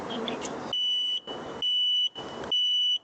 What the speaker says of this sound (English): the DEFED alarm station issue the order to the indoor siren to make it ring